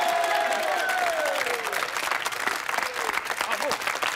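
Studio audience applauding on the French TV show Sacrée Soirée at its 250th episode, a steady dense clapping from a large crowd throughout, with faint cheering and a few tones sliding down at the start.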